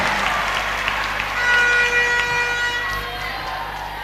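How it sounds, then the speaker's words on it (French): Audience at a spelling contest in Bamako applauding a contestant, steady clapping with a brief swell in the middle, accompanied by a sustained horn-like tone, fading slightly toward the end. "on l'applaudit très fort"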